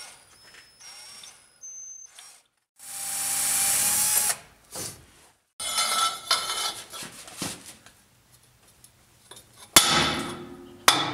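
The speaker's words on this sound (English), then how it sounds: "I've been having to drill them out because they're too far recessed in there" Drill boring out recessed ball joint collar pins on a 2005 Ford F250, heard in short intermittent bursts of high whining grind between metallic clinks and tool handling, with a long loud burst in the middle.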